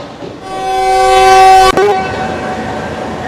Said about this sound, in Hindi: डिपार्चर विसल हो गया। 8:31 पे फर्स्ट विसल हुआ है।